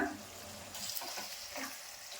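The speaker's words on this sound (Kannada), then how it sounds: "ಇದನ್ನೆಲ್ಲ ಚೆನ್ನಾಗಿ ಫ್ರೈ ಮಾಡ್ಕೋಬೇಕು ನೋಡಿ ಎಣ್ಣೆ ಬಿಡೋ ತನಕ ಫ್ರೈ ಮಾಡ್ಕೊಂಡಿದ್ದೀನಿ" Spice paste for dill rice frying in oil in a pan, a steady soft sizzle with faint stirring scrapes throughout, continuous and close, no voices.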